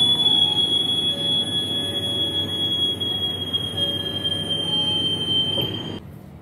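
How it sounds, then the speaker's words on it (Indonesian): A Ranggajati passenger train pulls out of Purwokerto station, heard from inside the carriage as a steady rumble of rolling wheels with a thin high squeal riding on top, holding level before dropping away near the end. "kereta api Ranggajati kembali diberangkatkan tepat pukul 17:22"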